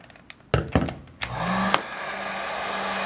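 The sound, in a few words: heat gun warming aluminum sliding door frame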